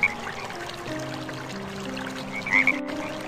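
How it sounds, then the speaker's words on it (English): Frogs croak in short bursts over a low, steady background hum, with a brighter chirp near the end standing out briefly at close range. "Life cycle of a frog."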